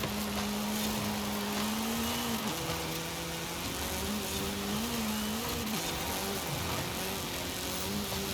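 A rally car in the Forza Horizon 5 racing game drives off-road, a steady, moderately loud engine hum that dips and rises slightly in pitch as the throttle changes, with a constant gritty rumble of gravel and tyre noise underneath.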